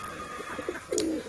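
Domestic pigeons coo softly in a short burst, one low throaty coo standing out near the end over faint background noise.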